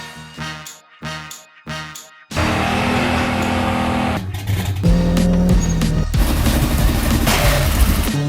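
A turbocharged 1.8-litre Chevrolet Cruze engine revs in short stuttering bursts, then roars loudly and continuously under heavy boost, close up, with a brief change in pitch partway through.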